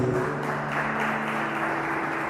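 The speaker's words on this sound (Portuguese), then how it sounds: "Vamos aplaudir e glorificar o Senhor." A church congregation claps together, a dense steady patter of many hands heard close and loud for a couple of seconds, with a faint sustained tone lingering beneath.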